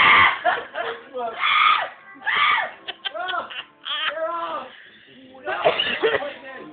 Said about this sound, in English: Scream again.